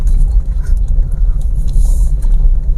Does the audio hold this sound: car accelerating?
yes